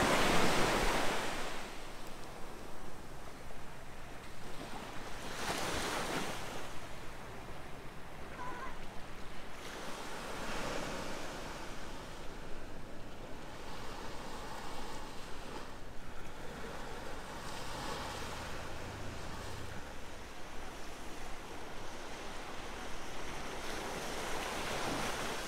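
Surf rolls in steadily at Cobo Beach, Guernsey, with broad washes of breaking waves and constant wind buffeting the microphone, and no voices.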